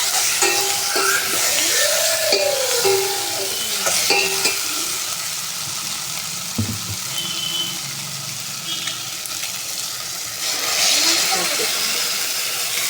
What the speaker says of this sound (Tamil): இது நல்லா கொஞ்சம் வதங்கணுங்க